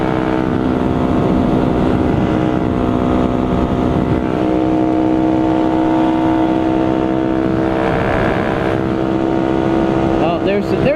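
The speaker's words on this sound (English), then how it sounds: "I think my exhaust got louder." Motorcycle with a loud exhaust riding on a wet road in rain, a continuous droning engine note heard from the rider's position, steady and close throughout.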